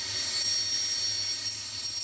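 Steady, loud roar of a T-59 Hawk trainer jet's engine, a constant hissing whine with no breaks and no talking.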